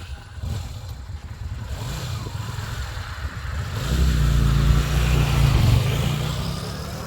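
A Yamaha Virago motorcycle engine idling with a low rumble, then revving up into a louder, deeper sustained roar that swells and slowly eases, close to the listener.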